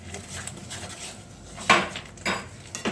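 A spoon stirs Kashmiri red chilli powder into a cooking pan, with soft background rustle broken by two or three louder metal scrapes against the pan.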